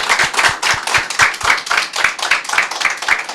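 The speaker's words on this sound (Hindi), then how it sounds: "एक अच्छी ताली" Rhythmic group clapping after a prayer at a church gathering, quick regular hand claps repeating steadily, close and loud with no talking over them.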